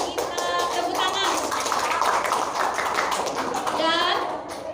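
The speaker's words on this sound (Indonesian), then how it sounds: "Seluruh kita tepuk tangan." Continuous applause from a crowd, dense and steady throughout, with some voices and cheers mixed in.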